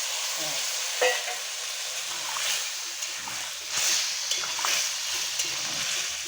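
Shrimp and elephant foot yam in a hot pan give a continuous close frying sizzle, with brief splashy bursts as a little water goes in and light stirring scrapes, and no voices.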